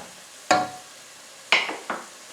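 Garlic stirred into a pot of simmering home-grown tomatoes for ketchup, three short scraping stir strokes against the pot over a faint background bubbling.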